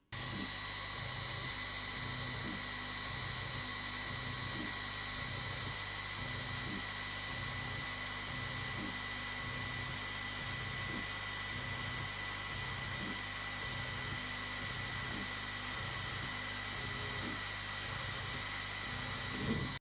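An AlgoLaser Delta 22W diode laser engraver runs a test pattern on 2mm hardboard, giving a steady high mechanical whine broken by evenly spaced motor pulses, with no voices.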